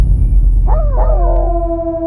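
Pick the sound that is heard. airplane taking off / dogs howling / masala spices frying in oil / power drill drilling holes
dogs howling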